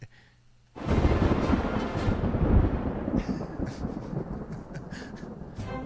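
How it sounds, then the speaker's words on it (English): A loud thunder sound effect bursts in after a quiet moment and rolls on for several seconds as a broad rumbling roar, with a few sharper crackles in its tail. "That's thunder."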